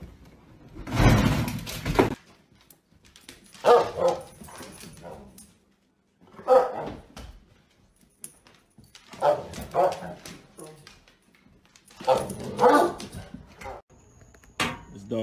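A dog barks and yips in short, close bursts spaced a few seconds apart, loud against a quiet background, with the first burst the strongest.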